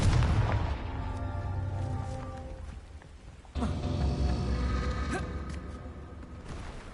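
Two Confringo blasting spells in Hogwarts Legacy burst with booming, whooshing explosions, the second erupting abruptly midway and trailing into a rumbling, ringing tail.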